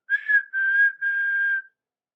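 Three short whistle blasts, the first warbling and the next two long and steady, loud and alone, with no background noise. The sound is a clean whistled tone and may be a voice imitating a steam locomotive whistle.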